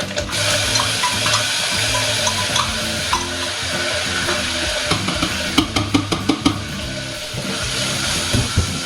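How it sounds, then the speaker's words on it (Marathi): Garlic, chilli paste, fenugreek powder, asafoetida and curry leaves fry steadily in a pan for kadhi, a continuous close sizzle with scattered stirring clicks and a brief run of sharper taps partway through. "आता हे पूर्ण आधी छान परतून घ्यायचं लसूण।"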